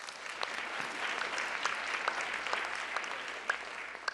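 Steady applause from a large crowd at a White House Correspondents' Dinner event, dense clapping that holds at an even level throughout.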